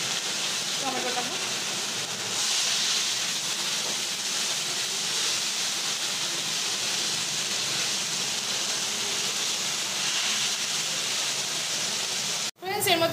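Squeezed, peeled tomato fries in a pan for Bombay-style pav bhaji, a steady hissing sizzle throughout with a brief break near the end.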